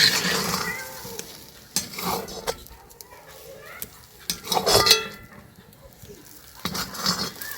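A spoon or spatula scrapes and knocks around a wok as a cornflour mixture is stirred and thickens, giving intermittent close scraping strokes at a low level.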